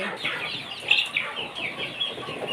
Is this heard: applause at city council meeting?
no